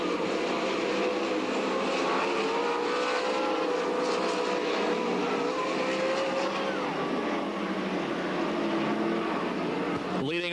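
Sprint cars roar around a dirt oval on the final lap of a heat race, a loud, steady engine drone with passing pitch shifts throughout, under a race announcer's commentary.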